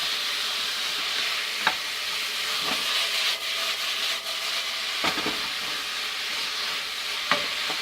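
Potatoes are tossed and stirred in a frying pan, giving a steady close sizzle with a few soft scraping knocks as they shift, and no one speaking.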